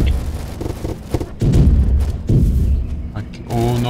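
Grenades go off in a shooter video game, with repeated heavy booms and thumps coming in quick bursts, loud and close, mixed with game noise.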